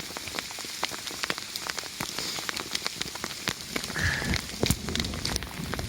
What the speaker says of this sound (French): Il y a une grosse grêle,